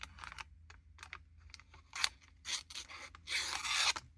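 A Rough Ryder Tear Drop Jack pocket knife blade cutting through material, a series of close, crisp slicing and rasping strokes that grow longer and louder toward the end.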